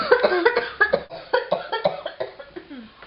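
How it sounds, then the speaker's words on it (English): A woman with chest pain and breathing trouble coughs again and again, a close run of harsh, wet bursts in an uneven rhythm with barely a pause between them. "she never stops coughing"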